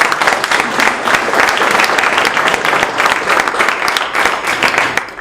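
An audience at an AI summit talk gives sustained, loud applause, dense clapping running for several seconds before tapering off at the end.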